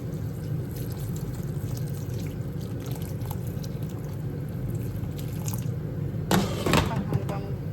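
Water poured into a cooking pot of fish soup with milkfish, shrimp and tomatoes, a steady low splashing pour running throughout with a brief brighter splash near the end.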